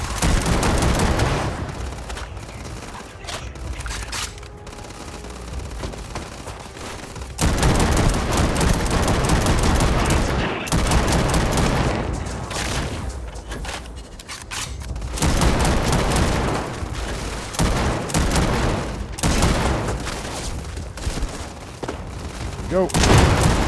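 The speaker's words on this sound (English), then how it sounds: "Open fire." Sustained bursts of gunfire in the video game Starfield, repeated heavy volleys and booming shots rolling on for long stretches, loud and close, with brief lulls between the rounds of firing.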